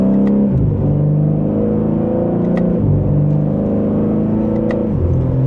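A 2026 BMW M3 Competition twin-turbo in Sport Plus and second gear pulls forward under light acceleration, its steady exhaust drone rising and dropping through several shifts, loud and close from inside the cabin.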